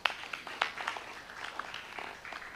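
Applause from the audience at the closing of the 2022 agrarian reform summit in Indonesia, a brief patter of clapping that rises in quick bursts and then thins out, fairly faint and heard with no talk over it.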